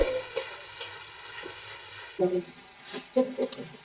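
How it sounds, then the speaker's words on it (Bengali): Ground garam masala, coriander and cumin stir-fried in a pan for katla fish kalia: a soft sizzle with scattered scraping stirs, getting louder and more irregular partway through. "গরম মশলা গুঁড়ো হাফ চামচ ধনিয়া গুঁড়ো হাফ চামচ জিরে গুঁড়ো দিয়ে ভালোভাবে কষিয়ে নেব"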